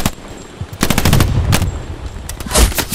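A light tank fires in the PS5 game Hell Let Loose, with several loud, sharp bursts of rapid gunfire cracking close by over a few seconds.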